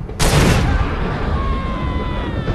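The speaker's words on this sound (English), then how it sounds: "An interesting way to use fire is to shoot liquid propane tanks." Propane tanks shot in the video game Far Cry 2 burst with a sudden loud blast, then a roaring burn and rumbling fire that fades slowly over a couple of seconds, with faint tonal whines lingering in the background.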